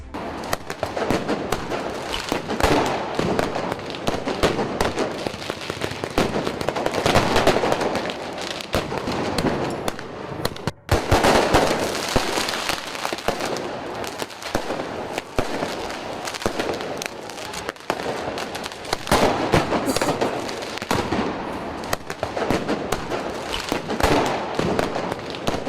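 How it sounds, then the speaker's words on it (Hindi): Firecrackers set off by protesters in Milan crackle and pop in dense, continuous bursts for the whole stretch, loud and close, with a brief drop near the middle before the barrage resumes. "प्रदर्शनकारियों ने जहां पर एथलीट्स रुके हुए हैं वहां पर पटाखे जला दिए"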